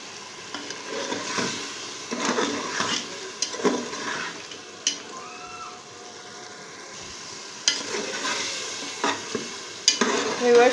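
Tender mutton cooked down in its own liquid sizzles steadily in a pot while being stirred in intermittent bursts of scraping and bubbling, close and moderately loud with no talk.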